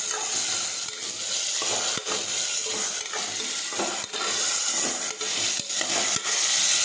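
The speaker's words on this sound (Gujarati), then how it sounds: "હવે આપણે સાતળી લઈશું।" Peas, potatoes and tomatoes sautéing in a pan, a steady loud sizzle and hiss broken by sharp scraping spatula strokes about once a second, close up with no talk.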